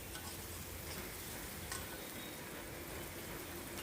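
Carrots and yard-long beans fry steadily in oil in a pan, a continuous dense sizzle with faint ticking crackles, close and unchanging throughout, with no voices.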